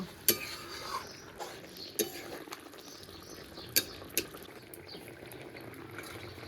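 Pabda fish and eggplant curry gets stirred in a pan, with soft simmering bubbles under sharp, scattered clinks of a spoon against metal; quiet and close, no talking.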